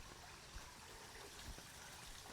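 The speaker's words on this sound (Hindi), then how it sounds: "जंगलों के अंदर इधर झरने की आवाज़ आ रही है।" A waterfall in a forest pours steadily down from the mountains, a faint, continuous broadband rush with no voices.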